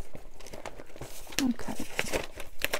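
Brown Amazon-style packaging paper is crinkled and rustled by hand during paper crafting, giving close, irregular crackling bursts mixed with someone speaking.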